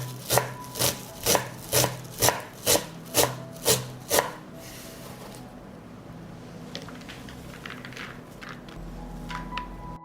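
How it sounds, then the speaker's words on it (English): A knife chopping parsley on a wooden board, eight crisp, evenly spaced chops close by, followed by quieter scattered taps and rustling. "And finally, I will cut the parsley."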